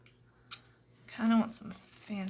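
Fancy craft scissors cut paper for a junk journal cover with a single quick snip, close and fairly quiet, as a voice talks before and after it.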